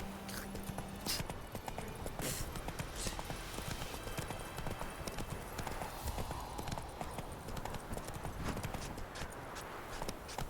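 A horse gallops in The Witcher 3 video game, its hooves drumming in a fast, unbroken rhythm that stays loud and close throughout, with a brief whinny beneath the game's background sound.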